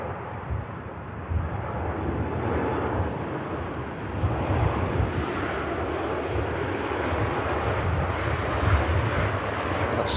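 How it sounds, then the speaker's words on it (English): Ryanair airliner touching down at Manchester Airport in blustery wind, a steady broad jet roar held at moderate level throughout with gusty rumble and no voices. "That sweet touchdown from Ryanair."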